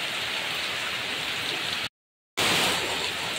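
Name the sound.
heavy rain falling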